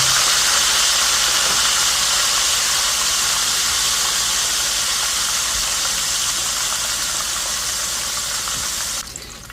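Thin pork chops frying in a pan, a steady loud hiss and sizzle that runs unbroken for nine seconds before easing slightly at the end, with no talking.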